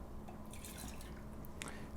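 Water drains through a paper coffee filter cone during a camp pour-over, a faint continuous trickle with tiny intermittent drips, quiet and close.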